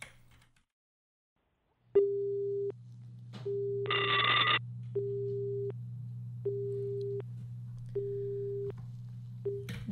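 An outgoing call on a radio phone-in show: repeated ringback tones pulse at regular intervals over a steady low line hum, with one brief brighter electronic burst partway through.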